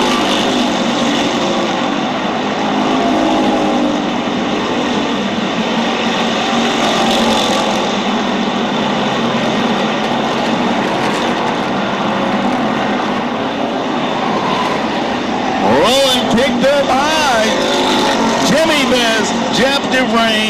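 Pure stock race cars roaring around an oval track on the final lap, a continuous loud engine drone with rising and falling pitch as cars pass near, while a race announcer talks over it.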